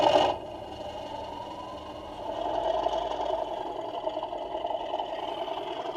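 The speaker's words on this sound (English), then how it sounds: "I even had chance to try out a sound-fitted version of Accurascale's Class 37" A sound-fitted Accurascale Class 37 model diesel locomotive gives off a steady diesel engine drone that builds after a brief start, with a mid-level rumble and no voices.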